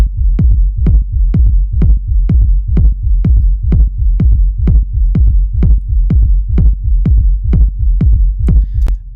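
A techno kick drum with heavy sub bass low end pounds in a steady four-on-the-floor pulse, about twenty punchy, booming hits evenly spaced and loud, with no voices.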